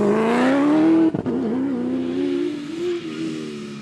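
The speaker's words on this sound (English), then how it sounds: "yet another NWM Ford Ranger, this one being expertly driven by the popular Vos Prinsloo and Andre Vermeulen" NWM Ford Ranger rally truck in the Sugarbelt 400 rally in KZN, engine revving hard and climbing in pitch, a brief gear-change dip, then holding a strong loud drone close by.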